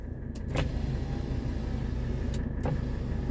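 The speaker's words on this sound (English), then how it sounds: "Let's go ahead and check the back windows. You can see all the windows work." Power windows on a 1985 Mercedes 300SD whir as electric motors drive the glass, a steady low motor hum running under the idling car, with sharp clunks as the windows start and stop.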